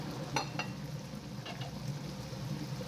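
Masala for an okra and meat curry fries quietly in a pan. A faint, steady sizzle is broken by a few soft clicks of stirring.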